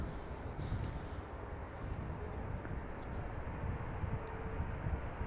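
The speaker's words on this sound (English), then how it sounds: "we have an E2 Embraer 195, which will be going to Newcastle, flight 955. Here it is going already." An Embraer E195-E2 jet departs Amsterdam Schiphol Airport with a steady, distant broadband engine roar that holds evenly throughout, with no talking.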